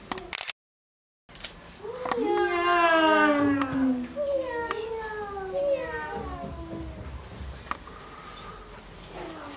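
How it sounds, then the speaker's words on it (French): A small cat meows in a French children's story, several drawn-out, wavering meows following a short gap of silence near the start. The meows are close and clear and run for several seconds. "un tout petit chat qui faisait miam"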